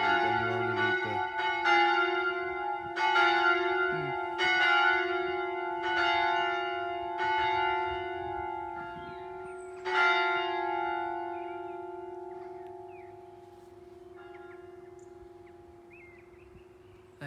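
Church bells of St. John the Baptist church in Tideswell ring out in a series of loud, evenly spaced strikes with long ringing hum between them, the strokes fading and thinning toward the end, with no voices.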